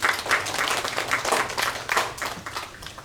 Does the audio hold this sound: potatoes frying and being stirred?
no